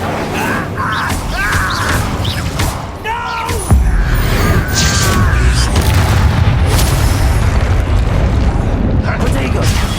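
Fire spells and magical blasts in the Hogwarts Legacy video game, with a loud boom near four seconds that gives way to a dense, sustained roar of game combat effects under intermittent speech.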